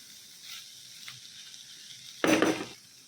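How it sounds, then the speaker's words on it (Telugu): Cheese samosa filling is mixed in a pan with a spatula: faint scraping and a low fry hiss, then one louder rattling scrape of the utensil near the end, with no voices. "ఒకసారి పూర్తిగా మిక్స్ చేద్దాం"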